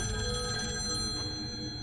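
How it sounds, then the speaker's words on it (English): A telephone rings continuously with a steady electronic tone in a horror TV show scene, set against a low background rumble. "Answer the phone, why don't you?"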